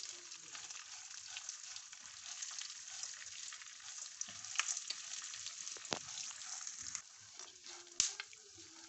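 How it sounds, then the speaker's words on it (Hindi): Peanuts, almonds, a four-seed mix and coconut roast in a pan with a steady dry hiss and crackle, broken by scattered scraping stirs and a couple of sharper knocks near the end. "मूंगफली, चारों मगज़, और ये नारियल, इनको सबको हम रोस्ट करेंगे।"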